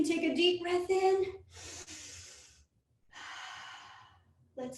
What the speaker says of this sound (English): We can take a deep breath in.